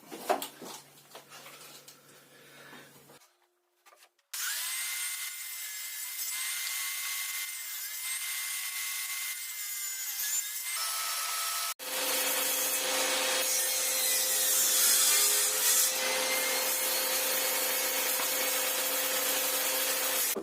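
A power saw cuts wooden boards for a mini-plus beehive nucleus box. A loud, steady whining rip runs for long stretches close by, with a brief pause and then a second, harsher cutting pass.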